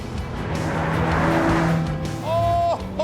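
A Jaguar E-type's 3.8-litre straight-six engine roars loud and close as the car accelerates hard, with a brief tyre squeal and a rising engine note near the end.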